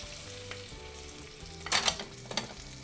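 Chicken steak frying in a pan in oil from melted mayonnaise, a soft steady sizzle with a few louder crackling bursts and light scraping or stirring sounds, close by with no talking.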